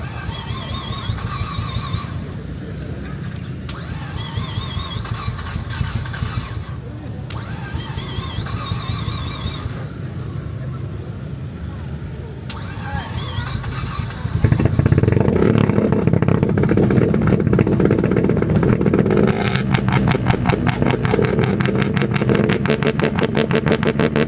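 A Mazda RX-7 with a Liberty Walk body kit and straight-pipe exhaust idles with a rough, popping burble, then swells into a louder, harsher engine roar partway through. The engine is heard close and alone.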